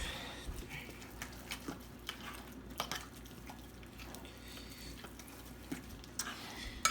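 Tzatziki ingredients being mixed in a bowl, a faint soft scraping and stirring with scattered light utensil taps against the bowl, close and quiet over a low background hum.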